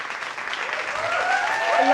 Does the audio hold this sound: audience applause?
yes